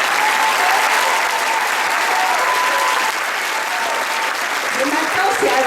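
Loud, dense audience applause fills the room at a Pentecost 2012 celebration, sustained and steady throughout, with voices faintly audible beneath the clapping.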